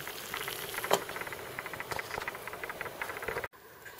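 Water at a rolling boil in a small pot heated by an Esbit solid-fuel tablet stove, a steady close bubbling and rattling patter with small pops, ending abruptly.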